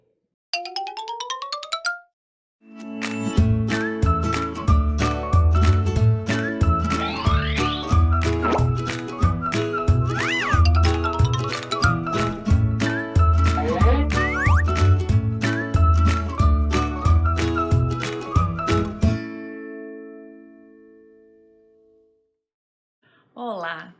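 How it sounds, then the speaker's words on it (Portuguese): A channel intro jingle plays: a bright electronic melody of plucky, bell-like notes over a bouncing bass line for about seventeen seconds, with short tonal blips just before and after it. "Enzo, roda a vinheta."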